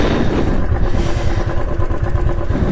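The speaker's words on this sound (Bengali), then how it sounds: "আর এখানেই বাইকটাকে ভাবছি পার্ক করি।" A motorcycle at low idle rumbles steadily and close as it is brought to a stop and parked at an offbeat spot near Kolkata, with a few light clatters and thuds but no voices.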